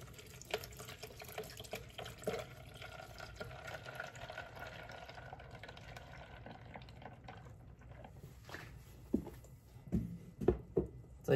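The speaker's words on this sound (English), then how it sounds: "this is about 3 cups of milk" Milk poured from a container into a blender for a strawberry and nut smoothie with oats, a steady liquid gush and splashing that breaks into a few louder sloshes toward the end, close and with no talking.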